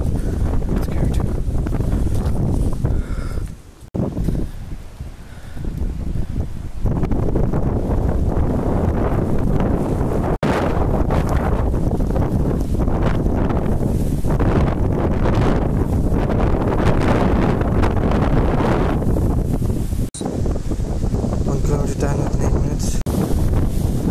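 Strong wind gusts buffet the microphone in stormy, freezing weather, a loud continuous roar with brief lulls, and speech may be faintly mixed in.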